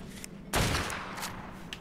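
Gunfire in the survival game ARK, heard as one loud shot with a brief decay, then a few fainter sharp cracks spaced out afterward, with no speech.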